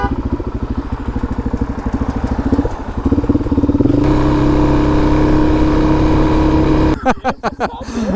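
A KTM 300 two-stroke dirt bike engine on a trail, loud and close, with a rapid buzzing idle and revs rising into a steady held drone before choppy blips of throttle near the end.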